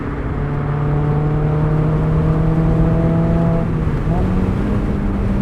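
A modified 2019 Mazda MX-5 Miata 30th Anniversary's 4-cylinder engine with an upgraded exhaust hums in a steady, loud drone from inside the car, the pitch holding then dropping slightly near the end as it shifts, with engine noise throughout.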